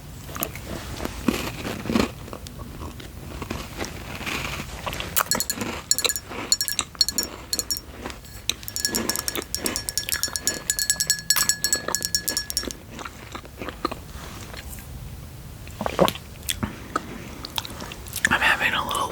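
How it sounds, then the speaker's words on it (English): Crunchy late-night snack being bitten and chewed close up, a run of crisp bites and mouth sounds with clinking at times, under quiet whispered talk. "I'm having a little late night snack"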